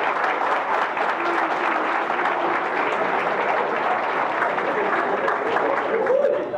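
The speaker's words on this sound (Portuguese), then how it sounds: "Pais, podem aplaudir os seus filhos, eles merecem." Parents applaud graduates at a school graduation ceremony. A large crowd's clapping comes as a dense, steady roar that holds at the same loudness for the whole stretch, with a voice faintly underneath near the end.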